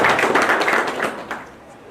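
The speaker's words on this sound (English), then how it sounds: "I think you deserve a clap" An audience at a university gavel ceremony for law graduates applauds, a dense wash of many hands clapping loudly at first, then thinning and fading out over about two seconds.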